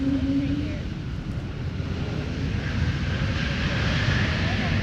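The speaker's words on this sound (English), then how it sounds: "777-200ER. 17, clear for takeoff." A Boeing 777-200ER jet takes off from runway 17, its engines making a steady, broad roar that holds at a constant distance.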